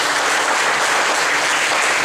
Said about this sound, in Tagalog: palakpakan niyo sa Lord